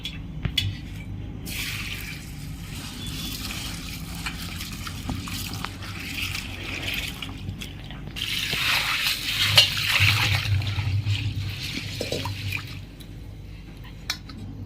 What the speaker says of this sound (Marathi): आता मी त्यांना स्वच्छ पाण्याने धुवून घेते